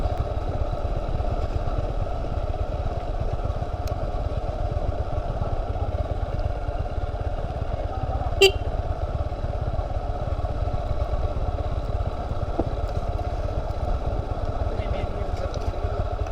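A motorcycle descends a steep, broken mountain road in Bandarban with a steady low engine rumble and loose clatter. One sharp click breaks through partway, and voices come in now and then.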